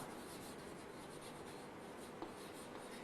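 Writing on a board, a soft continuous scratchy rubbing stroke, faint and close, with a small tap near the end and no talking.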